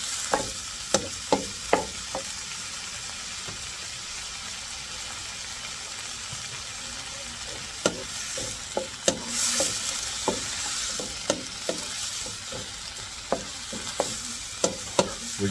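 Shrimp frying in a hot pan for a seafood pasta with mussels and tomato garlic basil sauce, a steady close sizzle broken by scattered clicks and scrapes of stirring, no voices.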